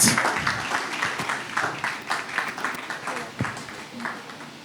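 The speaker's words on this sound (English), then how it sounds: "So please put a round of applause for him as he takes his seat." Audience applause at a roundtable panel session in Lekki as a moderator takes his seat, a moderate, continuous patter of clapping heard throughout the short stretch.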